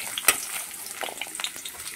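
Chopped onion frying in fish oil in a pan, giving a steady close sizzle with scattered crackles and one sharp pop near the start, no talk.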